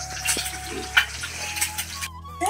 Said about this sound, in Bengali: ডিমটা ভাজা হচ্ছে এখানে